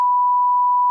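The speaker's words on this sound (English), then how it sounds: "Beep that." A single censorship beep: a pure, steady electronic tone held at constant pitch for just under a second, loud and isolated, with no voices.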